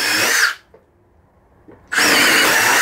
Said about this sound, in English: That clicking or the ratchet action, you can hear that coming through again once it becomes a little bit more tough